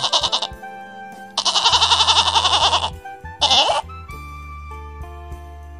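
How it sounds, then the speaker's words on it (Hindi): Goat bleating in three loud, wavering calls, the longest and strongest in the middle, with a low steady musical drone running underneath and no talk. "ये है बकरी।"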